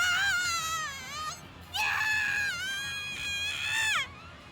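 A nurse in the visual novel game Chaos;Head Noah lets out long, shrill, wavering screams in two main bursts, loud and close, with wailing pitch bends and no other sound behind them.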